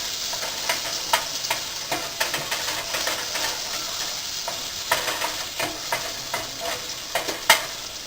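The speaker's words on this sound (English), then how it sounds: "I'm going to put my butter in a hot saucepan, about 1 tablespoon, and we'll let that melt." About a tablespoon of butter melts in a hot saucepan, crackling and sizzling steadily up close, with light repeated scraping taps from a utensil running through it.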